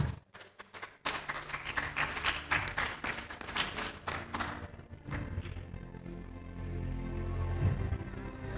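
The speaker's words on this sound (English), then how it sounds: "please welcome our final performers. Please give them a big applause." Audience applause for the final performers at a high school English debate grand final, a sudden burst of many clapping hands that stays dense and lively, then thins into a scattered, murmuring crowd.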